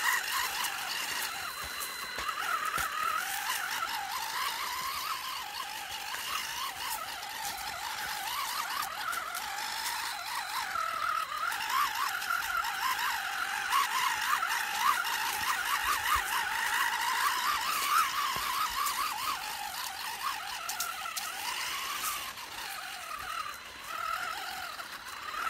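A WLtoys 12428 RC crawler drives through a rocky creek bed, its small electric motor giving a steady, continuous whine with fluctuating pitch as it climbs and slips, loud and close throughout.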